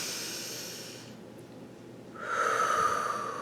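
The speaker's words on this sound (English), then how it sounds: "You can take a deep breath" A person takes a slow, deep breath during a calm meditation, a soft airy hiss that fades, pauses briefly, then swells again as a fuller, steady rush of air, close and alone.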